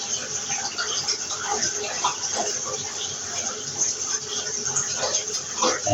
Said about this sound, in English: I'm recording you through the bath water